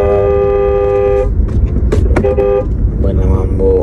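Busy road traffic in an Arab country, with a long, loud car horn blast held for over a second, then shorter honks and a second horn tone over constant close engine rumble, with voices present.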